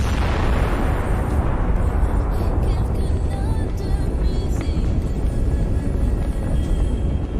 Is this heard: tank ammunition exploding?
yes